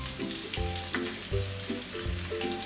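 Whole black cumin, a cinnamon piece, cloves and garlic paste sauté in a pot of hot oil, giving a steady, close sizzle with soft stirring bursts throughout.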